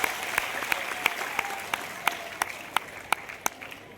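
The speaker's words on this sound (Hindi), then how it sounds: "धन्यवाद, जोरदार तालियां बजाएं।" Schoolchildren at a road-safety session clap together in a sharp, regular rhythm, each beat a crisp burst over a low crowd murmur, keeping an even pace for several seconds.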